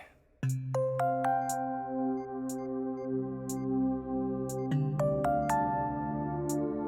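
A phone ringtone plays a repeating chiming melody of bright bell-like notes, clear and close, looping without any voices.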